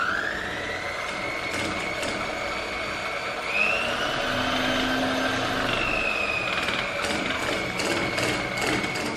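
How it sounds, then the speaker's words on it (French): Electric hand mixer whirring steadily through a homemade moisturizing cosmetic cream, a continuous motor hum that shifts pitch slightly as the beaters work, with no talking. "je vais tout simplement venir le battre pendant 5 à 10 minutes au batteur électrique"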